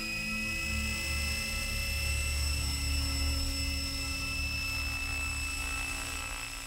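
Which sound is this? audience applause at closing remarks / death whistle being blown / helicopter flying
helicopter flying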